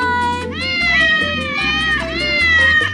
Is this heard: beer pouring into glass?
no